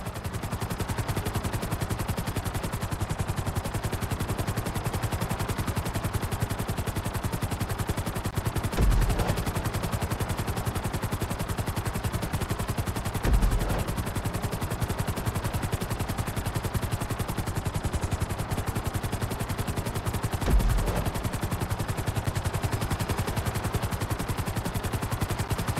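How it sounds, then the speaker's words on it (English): A helicopter in GTA 5 flight school: a steady, loud rotor thrum and engine whine running continuously, with a few faint thumps, while it is brought down onto a helipad. "Bring the helicopter down gently onto the helipad."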